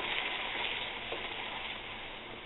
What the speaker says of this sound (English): Let it simmer together for just a few minutes until it reduces just slightly